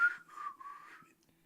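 A person whistles a short wavering tune, a few clear sustained notes lasting about a second before fading out.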